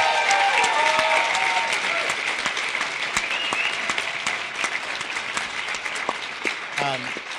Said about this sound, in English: give Don another round of applause